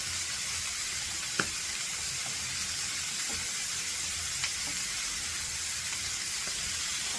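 Tostones fry in a pan, giving a steady, even sizzle and hiss throughout, with a few faint clicks and taps as the pieces are flipped.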